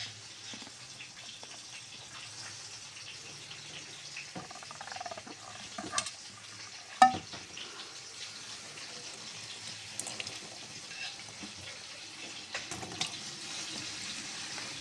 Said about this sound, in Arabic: بصوا بحس الفوران كله خلص اهو